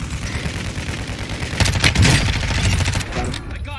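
Rapid gunfire in the video game Call of Duty: Warzone, a dense, loud burst of automatic shots that swells midway and continues steadily.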